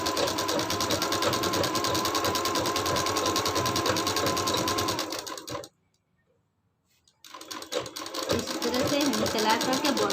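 Close up, a sewing machine runs fast stitching the body seams of a collar-neck suit, a dense rattling whir that stops abruptly for about a second and a half before starting again.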